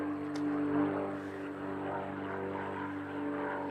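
Aerobatic propeller airplane flying a Sportsman Power sequence at a national competition, heard as a steady, fairly distant engine drone with a harmonic hum that holds throughout without talk.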